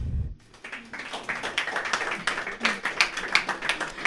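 A live podcast audience claps in a room, a ragged spread of hand claps that starts after a brief quiet and keeps going for several seconds at moderate level, with no talk over it.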